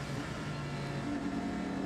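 An LMPC prototype race car passes on the track during the 2012 Petit Le Mans endurance race, a steady droning engine roar that swells slightly as it goes by, with no voices over it.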